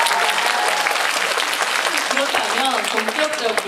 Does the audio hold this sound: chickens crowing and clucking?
no